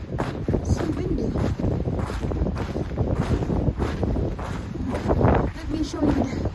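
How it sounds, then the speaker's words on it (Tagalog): Strong wind roars steadily across the microphone on a snowy mountain with frozen snow and grass, a continuous gusty buffeting rush throughout while a voice speaks over it. "So windy as well."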